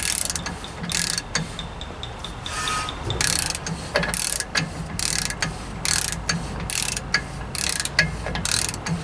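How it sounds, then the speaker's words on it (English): A ratchet cranks down the hub nut on a work truck's rear axle during an axle swap, giving a string of quick metallic clicks in repeated bursts with short pauses between them, close and fairly loud. "Alright, so we tighten this down till it's snug."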